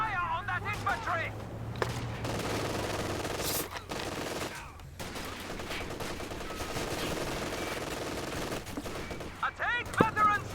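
Gunfire trained on infantry during a Company of Heroes 2 match, with bursts of machine-gun and rifle fire crackling steadily under game music, voices and battlefield noise.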